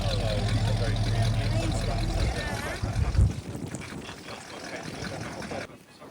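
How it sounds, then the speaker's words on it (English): A Ford 351 Cleveland V8 in a GTO replica rumbles with a deep, steady low idle that fades and drops away near the end, with wind noise and brief talk over it at an outdoor classic car meet. "this is that 351 Cleveland rumbling away"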